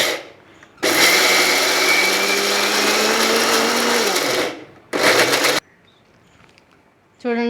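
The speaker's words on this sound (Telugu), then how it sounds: "ఇప్పుడు కొంచెం వాటర్ వేసుకొని మిక్సీ పట్టుకుందామండి" A kitchen mixer grinder churns soaked batter with a little water, a loud whirring motor run of about four seconds that winds down, then one short second burst, with quiet gaps between.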